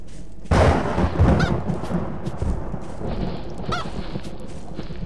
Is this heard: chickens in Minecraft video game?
yes